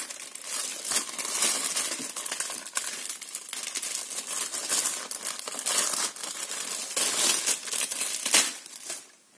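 Continuous close crinkling and crackling of a sticky plastic mould being handled, with irregular louder crunches, fading out at the end.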